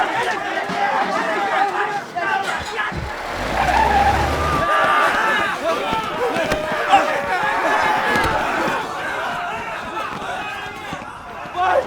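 Car chase with a pursuing car skidding, tyres squealing in sustained tonal streaks over engine noise and bursts of crashing, loud and close throughout, with dramatic music and voices mixed in.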